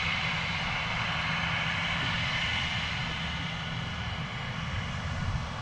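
An EasyJet airliner's engines roar steadily at close range at Manchester Airport, a continuous broadband rumble holding level without pause.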